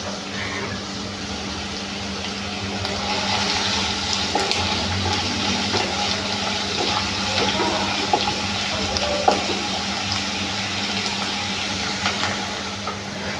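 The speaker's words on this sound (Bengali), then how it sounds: "এরপর দিয়ে দেব রসুন কুচি, পেঁয়াজ কুচি একসঙ্গে।" Chopped garlic and onion frying together in hot oil in a wok, a continuous moderate sizzling hiss that holds steady without any talking.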